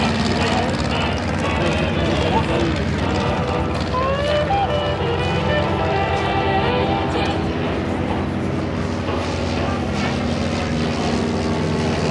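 A light propeller aircraft, an L-Bird primary trainer at an airshow, drones steadily overhead, a loud continuous engine hum with wind noise throughout.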